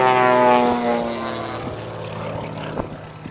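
A Mystery Ship airplane flying aerobatics at an airshow gives a loud propeller engine drone whose pitch slides downward as it passes and fades, with a faint voice in the background.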